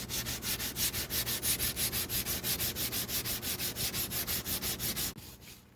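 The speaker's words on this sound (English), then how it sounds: "after copious amounts of hand sanding" Rhythmic back-and-forth hand sanding of thrifted wooden furniture, about five strokes per second, close and steady, stopping abruptly near the end.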